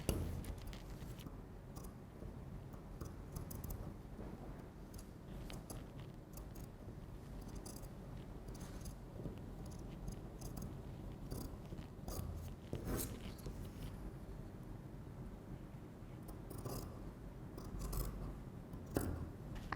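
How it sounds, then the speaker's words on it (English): Scissors snip away excess fabric from a basic front bodice draped on a dress form, a quiet series of small irregular clips and rubbing sounds close by, with no talking. "Clip the excess fabric."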